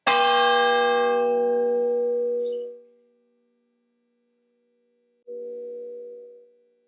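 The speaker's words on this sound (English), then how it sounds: "the piece was structured around this bell sound." A historic meeting house bell strikes loudly and rings out with a long, humming decay, then after a pause a second softer strike rings briefly.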